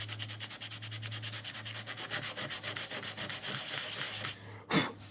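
Sandpaper rubbing over painted surface of a custom flag in quick, even back-and-forth strokes, a rhythmic close scratching that carries over a steady low hum and stops at the end with a brief bump.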